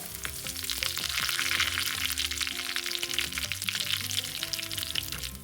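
Mustard seeds, fenugreek, dried chillies and curry leaves hit hot oil for a Kerala-style rasam tempering, a loud dense sizzle with crackling pops and a steady frying hiss throughout, with music underneath.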